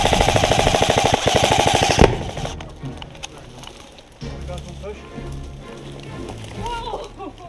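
Rapid airsoft gunfire rattles loudly in a dense burst during an outdoor airsoft game on Drake's Island, then cuts off into quieter field noise with scattered distant shots and faint talk.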